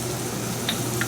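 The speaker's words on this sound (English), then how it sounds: "And then we'll put the vegetables in and let it sweat." Vegetables sweat in a hot pan for blackened catfish, a soft continuous sizzle close by, with a couple of faint brief clinks near the end and no one talking.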